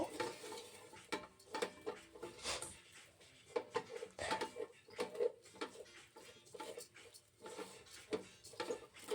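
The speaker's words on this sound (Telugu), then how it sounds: "సేమియా మంచిగా వేయించుకోండి, కొంచెం బ్రౌన్ కలర్లో వచ్చేంత వరకు." Vermicelli being stirred and fried in a pan for semiya payasam, rhythmic scraping and clinking of a spoon against the pan over a faint sizzle, close and uneven in bursts.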